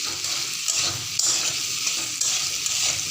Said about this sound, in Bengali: আমি নাড়াচাড়া করে নিয়েছি।